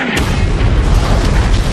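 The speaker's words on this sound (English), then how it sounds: "big explosions" Loud, heavy booming video game explosions in Saints Row: The Third roll one into another, a dense continuous rumble with deep low thuds and crackling debris.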